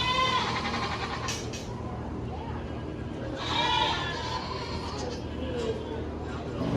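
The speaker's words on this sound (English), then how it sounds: "you can see there's a lot of goats here" Goats in a busy show barn at a goat breeders association show bleat several times, some close and some farther off, over a constant background hum and murmur of people talking.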